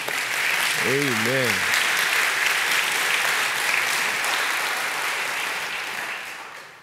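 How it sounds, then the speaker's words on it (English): Steady congregation applause in a church service fills the whole stretch, dense and sustained, with a single voice speaking briefly over it near the start before the clapping tapers slightly. "Won't you give the Lord another hand clap of praise?"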